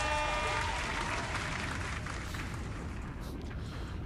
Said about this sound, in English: Let's go ahead and give him a round of applause for that